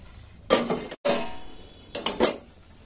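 Metal lid clanks onto a pot of boiling curry on a home stove, with a couple of separate ringing clatters and clinks close by and no talking.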